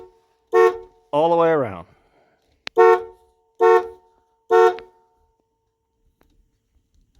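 A 1974 Ford LTD's rim blow steering wheel horn sounds in five short blasts, one of them longer, with someone speaking briefly near the end.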